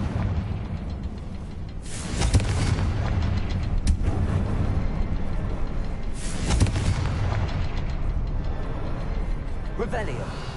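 Confringo blasting curse explosions in Hogwarts Legacy, two heavy booming blasts a few seconds apart over continuous game rumble, with a voice talking throughout.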